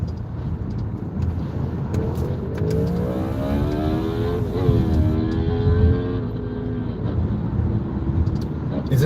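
A car revs its engine and drives past, the pitch climbing and then bending down as it passes close by, loud over steady background noise, with a voice talking briefly.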